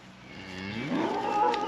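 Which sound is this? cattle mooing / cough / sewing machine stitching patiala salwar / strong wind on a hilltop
cattle mooing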